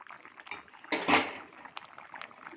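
A spoon clinks and scrapes in a pot of curry being stirred with cumin powder, then a lid clatters on, faint and close, without talk.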